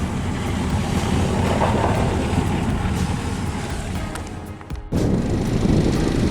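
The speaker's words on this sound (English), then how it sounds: "we're now using the engine to motor away from the mountains" Auxiliary engine of a sailboat motoring in the Grenadines gives a steady, close rumble mixed with wind and water noise for the whole stretch, with a brief dip near the end before it resumes.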